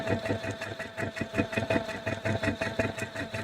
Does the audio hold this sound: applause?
no